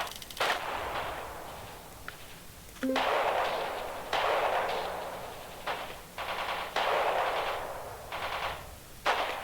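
Bursts of gunfire in the strategy video game Radio General, with several sharp volleys and rattling automatic fire spaced across the clip at moderate loudness, with no speech.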